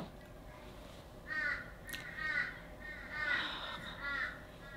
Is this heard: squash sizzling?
no